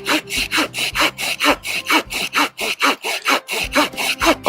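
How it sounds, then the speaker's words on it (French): An Opinel No.12 folding saw cutting a wood log about 4 to 5 cm thick, with brisk rhythmic rasping strokes, roughly four per second, close and steady with no talking. "On va essayer de scier ce tronçon pour voir comment la lame se comporte."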